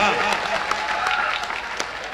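Audience applauds at a Bundeli-language speech during the Jal Vihar festival fair in Mauranipur, a dense, steady patter of many hands clapping close by throughout.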